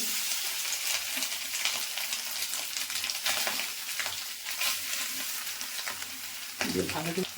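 Soybean chunks frying in a hot pan for a soybean and potato curry, giving a steady bright sizzle with occasional stirring scrapes, close and continuous throughout.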